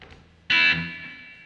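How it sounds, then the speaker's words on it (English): An electric guitar from an Epiphone Zephyr, played through a transparent distortion or overdrive pedal, rings out in one sudden loud chord that sustains and slowly fades. "Nice sort of transparent distortion pedal, kind of, or overdrive, kind of."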